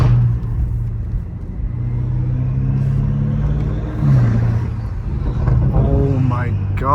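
A BMW M5 Competition with a catless exhaust pulls hard in second gear, its loud, droning engine note rising steadily and up close, with a sharper rev surge near the end and talk over it.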